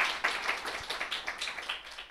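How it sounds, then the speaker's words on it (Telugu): A church congregation claps during a Christmas sermon, a dense run of crisp, fairly loud hand claps with a faint rolling pulse, no voices over it. "గట్టిగా చప్పట్లు కొట్టండి."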